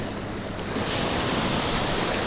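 Sea waves wash over a small-pebble beach in Batumi, a steady close rush of surf that swells louder partway through, with no talk.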